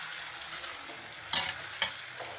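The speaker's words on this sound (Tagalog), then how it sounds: "ilalagay na po natin yung ating gulay. O, ayan. So, ginisa na po yung gulay." Vegetables sauté in a hot pan with a steady sizzle, broken by three sharp scrapes of a spatula stirring them, close and without talk.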